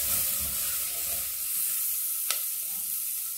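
Chopped onion fries in a pan over lowered heat, giving a continuous bright sizzle and hiss, with one brief clink partway through.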